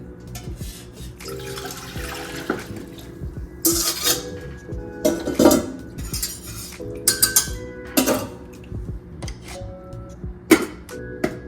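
Clinking of a spoon against a pot of pickled radish and cabbage, irregular scrapes and knocks close by, with running water and dish clatter in the background.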